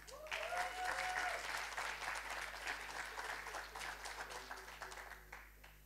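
Sustained audience applause at a graduation ceremony for master's degrees in psychology and sociology, many hands clapping steadily for several seconds in a large hall with a low hum beneath, slowly tapering at the end.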